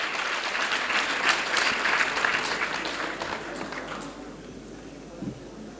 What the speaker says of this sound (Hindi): स्वागत कीजिए तालियों के साथ